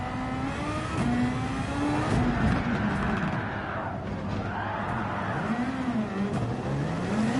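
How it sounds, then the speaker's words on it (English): A Super Formula race car in Gran Turismo 7 at Dragon Trail Seaside revs hard as its rear wheels spin, the engine note rising and falling in steady sweeps, loud and close throughout. "The rear's gripped in second gear, but then by the time he got to third, the wheel spin kicked in"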